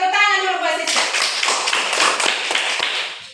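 Children in a classroom clap for a classmate named Siska, a burst of quick, overlapping small-hand claps close by, starting right after a voice speaks and tapering off within a few seconds.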